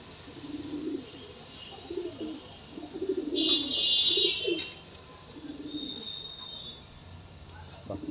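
Soft repeated cooing from a female Dobaj-line pigeon among Pulser and Tippler fancy pigeons, low rolling calls in short bursts with faint chirps and background voices.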